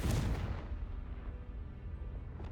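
Confringo fire spell explosion in the video game Hogwarts Legacy: a loud burst at the start, then a rumbling, booming decay that rolls on for a couple of seconds with no voices.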